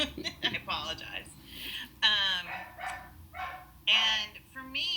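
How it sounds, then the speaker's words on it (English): A pet dog barks and yips in short bursts close to a home microphone, with a few whimpering tones mixed in between the barks. "my dog's gonna bark"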